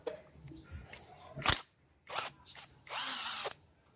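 Impact wrench on a hex bolt of a Honda Zoomer-X/MSX front fork during a fork seal change, giving short whirring, rattling bursts, one brief and sharp, then a longer sustained burst at close range.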